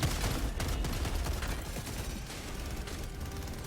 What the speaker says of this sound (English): Gatling turret, taking care of most of it.